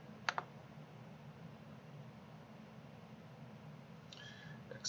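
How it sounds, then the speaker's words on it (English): A few sharp clicks from a computer mouse while operating brewery management software, with one quick double click near the start and another faint pair near the end, set against a steady low hum. "simply come over here and click on OK"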